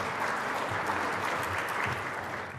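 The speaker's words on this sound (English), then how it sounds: "so that gets a second round of applause" Audience applause after a thank-you at a Department of Labor update, a dense steady wash of clapping from a full room lasting the whole stretch at even loudness.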